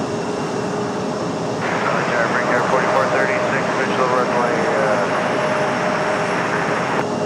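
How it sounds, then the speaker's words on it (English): A United Boeing 737-900ER jet departs Raleigh-Durham airport on a commercial flight, its engines giving a steady, loud broadband roar that holds evenly throughout, swelling slightly in the middle. "The departure of United 1205 off to Newark, New Jersey. 737-900ER."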